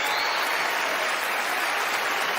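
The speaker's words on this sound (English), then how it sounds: "she bows to her amazed public as they give her a well-deserved round of applause." Dense, steady applause from a theater audience at a magic-competition show, filling the whole stretch at an even, loud level with no voices over it.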